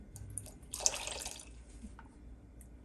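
About 100 grams of lukewarm water is poured into a sourdough starter, a brief, soft splash of liquid close by in the middle of an otherwise quiet kitchen.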